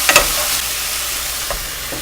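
Diced ingredients frying and sizzling in hot oil in a pan while Thai chicken pad Thai is being prepared, a steady close crackle with a couple of brief stirring scrapes near the start.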